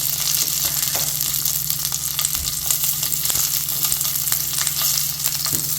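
Green chilli, dried red chilli, curry leaves and asafoetida sizzle and crackle steadily in hot oil, a close, continuous frying hiss with scattered sharp pops and occasional stirring scrapes.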